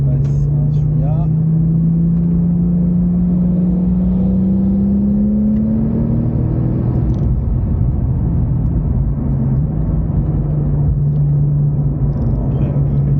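Porsche 911 type 997.2 Turbo S driving on the Anneau du Rhin track, a loud in-cabin engine drone rising in pitch then easing back, with people talking over it.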